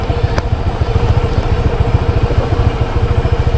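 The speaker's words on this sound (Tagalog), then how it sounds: "ang laki nun guys, ang laki ng motor." A big motorcycle engine runs close by with a loud, throbbing low rumble that pulses rapidly and steadily for several seconds, like a heavy bike idling or cruising slowly.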